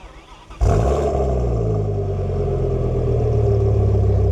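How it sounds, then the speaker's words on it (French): A V10 engine in a C6-generation Audi RS6 cranks and fires at once into a loud, deep roar that settles into a steady, rumbling idle close by. "je démarre la voiture et on va voir ce que ça donne, le son du V10"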